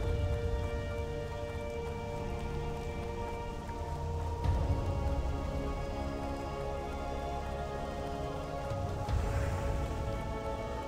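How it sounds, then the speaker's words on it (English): Steady rain falls in the World of Warcraft city of Darnassus, a dense, even hiss of drops on surfaces that carries on continuously and fairly loud, with a low rumbling bed beneath and no voices. "It is raining here."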